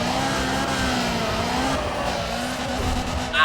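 A car in the racing game Need for Speed ProStreet handbraking and sliding: a sustained engine drone with a wavering tire squeal, then a sharp rising burst at the end.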